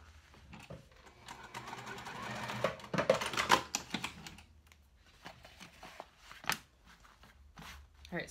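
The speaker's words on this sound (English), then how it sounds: "You can see that I sewed up and then across, and same on this side." Quiet bursts of machine stitching on the lining of a cork dopp kit, with clicks and handling noises between runs. Someone speaks softly over part of it.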